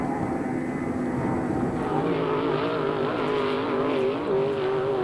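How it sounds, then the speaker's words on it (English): Outboard and inboard race boats competing at the 1975 Parker Enduro, a continuous distant engine whine that rises and falls in pitch as the boats pass. "Couple outboards putting the chase on one of the mini inboards in the race."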